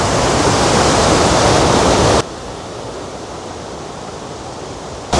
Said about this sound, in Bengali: আর দেখো এই ঝর্ণার জলটা কত সুন্দর লাগছে, এখান থেকে এইভাবে বয়ে চলেছে নিচে